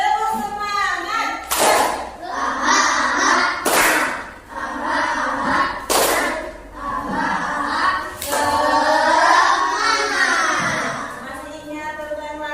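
Classroom children repeating the 'tepuk semangat' clap routine, with sharp group clapping bursts at intervals among chanting children and an adult voice.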